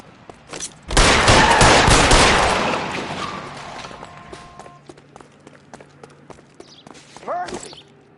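A sudden loud burst of rapid gunfire in L.A. Noire, a dense fusillade lasting about two seconds before fading, followed by scattered footsteps and a few fainter sounds.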